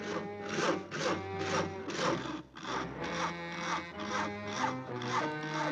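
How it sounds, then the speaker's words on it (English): Steady back-and-forth rasping of a saw cutting through wood, rhythmic strokes about twice a second, fairly close and continuous. "Isn't that your house Harry is sawing on?"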